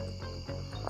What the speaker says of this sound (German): Oh, jetzt kommen die Grillsen.